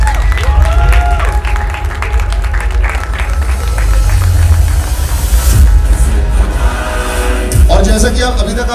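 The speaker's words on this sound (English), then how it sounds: "Big round of applause, ladies and gentlemen." An audience at a Mumbai movie trailer launch event applauds and cheers, with loud, sustained clapping from a large crowd and a voice speaking over it near the start and end.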